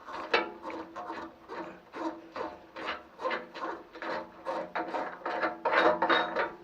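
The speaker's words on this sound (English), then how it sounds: "let's get this old valve off, and this should really just unscrew like that" An old radiator valve is unscrewed by hand during a thermostat swap, giving a close, rhythmic series of short scraping, grinding turns in quick succession with no talking.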